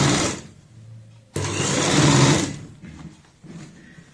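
Sewing machine stitching a soft denim bias strip on a girl's frock, a short whirring burst, a pause, then a longer louder run of rapid stitching before it slows and stops, close and alone.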